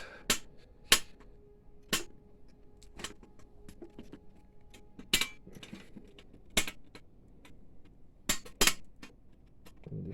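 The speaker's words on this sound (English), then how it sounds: "The screwdriver is skipping a thread." A screwdriver slips and skips on a tight screw during a repair of a DTG printer 1400, giving about a dozen sharp, isolated metallic clicks at irregular intervals over a quiet background.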